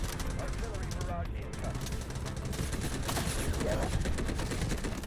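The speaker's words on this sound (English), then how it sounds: "Artillery barrage" An artillery barrage in the video game Delta Force sounds as a dense, continuous rumble of explosions and gunfire layered together, loud throughout, with voices talking underneath.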